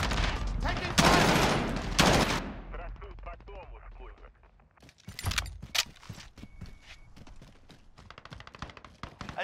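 Gunfire in Call of Duty Modern Warfare multiplayer: loud rapid bursts up front, then a lull with scattered shots and clatter before renewed sharp reports, with voiced game callouts in between.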